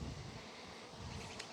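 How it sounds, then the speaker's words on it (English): Bees fly all around a beekeeper working among mating nucs, a faint, continuous buzzing hum with light wind noise. "there's bees flying all over"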